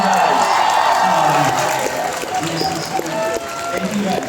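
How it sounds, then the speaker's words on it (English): Audience applause and cheering at Hong Kong Comic Con, a steady wash of clapping from a crowd that holds through the whole stretch, with voices and whoops mixed in over it. "Let's give a round of applause for Mr. Norm Reedus"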